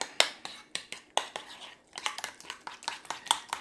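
Hamburger mixture with mustard and ketchup is stirred in a bowl, giving quick repeated clinks and scrapes of a utensil against the bowl and wet squishing in an uneven rhythm, close and fairly loud.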